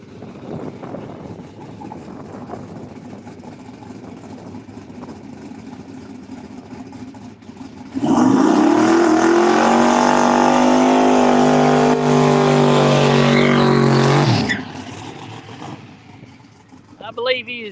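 The Bersani 'Orange Crush' drag racing car, running small rear slicks, launches down the Empire Dragway strip: after a quieter stretch, a sudden, very loud engine roar blasts for about six seconds, then cuts off abruptly.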